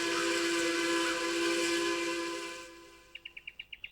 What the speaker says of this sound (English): The distant sound of a steam train can be heard.